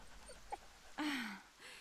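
A dog whimpers and whines in the video game Ken Follett's The Pillars of the Earth, giving a few short soft whines and then one louder drawn-out whimper up close.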